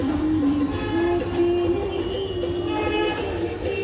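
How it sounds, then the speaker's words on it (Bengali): Sealdah AC local train running fast, a steady loud rumble of wheels and carriage from inside with a continuous low hum and faint rattles throughout. "ট্রেনটি বেশ ভালো গতিবেগে ছুটে চলেছে, প্রায় 100 থেকে 120 কিলোমিটার বেগে।"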